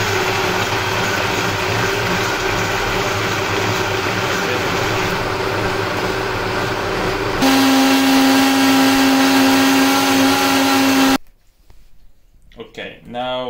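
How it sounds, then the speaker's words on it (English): Vitamix 2500i blender running on its smoothie setting, a loud continuous whir that rises in pitch partway through and then stops abruptly, followed by a few seconds of talking. "We start from the Vitamix, we set it on smoothie,"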